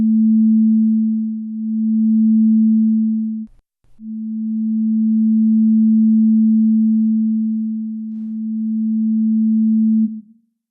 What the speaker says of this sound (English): The beat gets slower as the two tones get closer together.